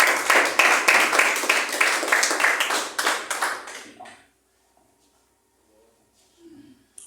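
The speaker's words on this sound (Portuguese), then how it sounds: "Vamos receber o servo de Deus com aquelas palmas bem fortes para Jesus" A church congregation claps loudly and steadily to welcome the preacher, with dense applause lasting about four seconds before it stops abruptly into near silence.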